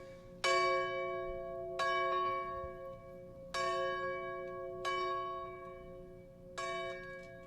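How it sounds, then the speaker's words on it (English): Church bells in Van Leer, Kentucky ringing slowly, six clear strikes each left to hum and decay, with nothing else but faint room ambience. "This is ringing the bells at 10 a.m., which we're asking everybody to do."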